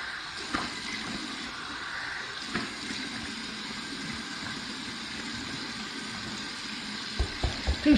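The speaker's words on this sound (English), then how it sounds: "Here's my warm water rinse." Warm tap water runs steadily into a bathroom sink as a shaving brush is rinsed, a continuous close hiss of flowing water with a few soft splashes and clunks near the end.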